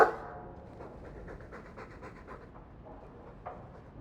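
A dog in Dragon Age II pants steadily for about four seconds, a soft rhythmic huffing held at moderate level with one slightly sharper breath near the end, no talk over it.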